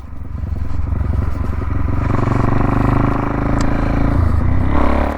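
A Suzuki DR-Z400 supermoto's single-cylinder engine thumps steadily while riding, loud and close, with a harmonic drone that shifts pitch as the throttle changes, plus some mechanical clatter and wind noise and no talking.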